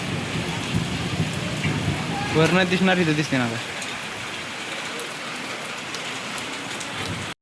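Heavy rain falls in a constant roaring wash of drops, close and loud throughout, with someone talking over it for a few seconds in the middle before the downpour continues alone.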